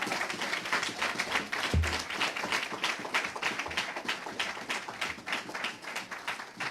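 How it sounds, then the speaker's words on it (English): Applause at a religious lecture gathering for a student regional minister, a steady crowd of hand claps that holds for several seconds at moderate loudness, with a brief low thump partway through. "Now, let's give him a round of applause."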